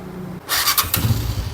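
Honda CG 125 motorcycle fitted with an HHO kit is started: a brief burst of starter and cranking noise, then the engine catches and settles into a close, loud idle chug.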